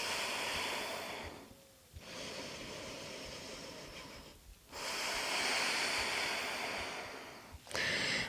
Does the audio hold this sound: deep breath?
yes